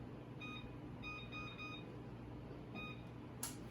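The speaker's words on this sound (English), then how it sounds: "we're gonna set this timer for an hour" A kitchen timer is set for an hour while baking zucchini bread, giving several short, clear electronic beeps in small bursts over quiet room background.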